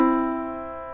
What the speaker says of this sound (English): a major third sounds like this.